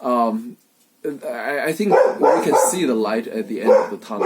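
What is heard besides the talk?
dog barking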